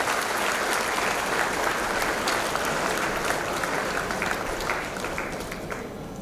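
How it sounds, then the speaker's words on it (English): An audience at a college induction ceremony for an engineering college's new batch claps in a sustained, even wash of applause that thins slightly toward the end. "We can give a very big applause for her also."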